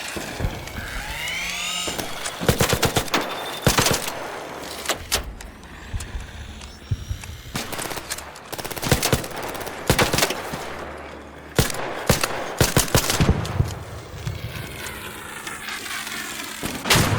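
Scattered bursts of video game gunfire in Arc Raiders, sharp repeated cracks arriving in clusters among mechanical whirs and other game effects, fairly loud and close.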